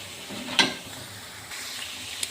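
Chicken pieces drop into frying onions with ginger and garlic. A sudden loud splash and hiss is followed by a steady sizzle that swells again toward the end, with no talking.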